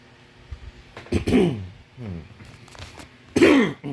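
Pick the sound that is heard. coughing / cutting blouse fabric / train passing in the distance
coughing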